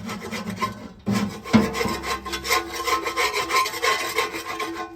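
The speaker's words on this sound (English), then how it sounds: "I've got a paint scraper." A paint scraper scrapes residue off the steel interior of a Lone Star Grillz pellet smoker, producing close, loud, repeated rasping strokes in an uneven rhythm, with a brief pause near the start.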